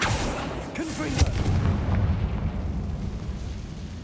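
A Confringo spell explodes in Hogwarts Legacy, a loud burst followed by a rumbling roar of fire and debris that slowly fades, with a faint whoosh of the cast just before.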